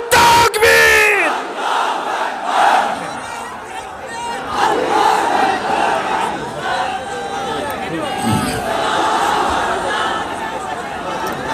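Large crowd at a religious rally answering a takbir call with loud chanted Allahu Akbar shouts, massed voices roaring in repeated surges over a brief amplified leader's voice at the start.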